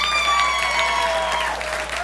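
Audience applause fills an improv comedy theater, a dense steady clapping from the whole crowd that carries on throughout and eases slightly toward the end.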